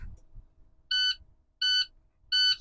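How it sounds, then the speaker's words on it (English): A truck's low air pressure warning alarm, triggered while the brakes are pumped during an in-cab pre-trip check, gives three short, evenly spaced electronic beeps, moderately loud over a faint low rumble. "The low air alarm should come on before 55 psi."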